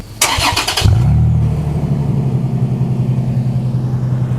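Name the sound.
2022 Toyota 4Runner engine starting with new Flowmaster exhaust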